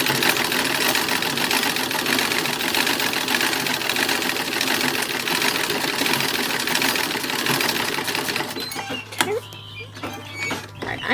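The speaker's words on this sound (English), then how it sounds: "So I'm going to sew this down." Sewing machine stitching down a gathered front seam on a 1920s-style summer party dress, a loud continuous whirring run that lasts most of the clip before stopping near the end.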